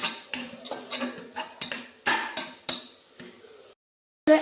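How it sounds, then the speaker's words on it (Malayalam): A spoon scrapes and knocks against a pan while curry masala is stirred, making a run of sharp metallic clinks at an uneven rhythm, close and fairly loud, ending after a brief silence with one more clatter. "അങ്ങനെ നമുക്ക് പച്ചച്ചുവ മാറുന്നവരെ നമുക്ക് ഇളക്കി കൊടുക്കാം"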